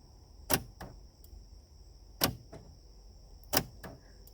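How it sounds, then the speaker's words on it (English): A door lock actuator in a Chevy Astro van door clunks three times, each a sharp mechanical snap followed by a quick second click, close and alone over a faint hum. "and the actuator works like this."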